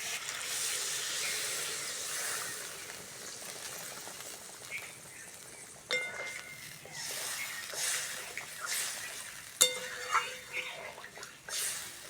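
Water poured onto fried spices in a hot pan bursts into a broad hiss that slowly fades, followed by quieter crackles and bubbling, faint and close.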